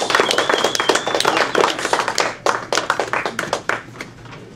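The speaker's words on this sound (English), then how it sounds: "And a round of applause, please." Audience at an Earth Day climate event applauds to welcome a speaker. Sharp, close hand claps rise into a loud burst and thin out into scattered, individual claps toward the end.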